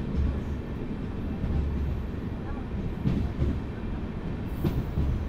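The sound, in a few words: Swarnrekha Express train with LHB coaches running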